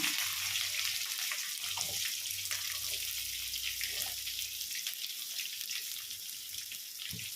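Onions frying in a pan with green chillies for a Tamil spinach (manathakkali keerai) stir-fry, a steady broadband hiss and crackle with a low hum, continuous and fairly close.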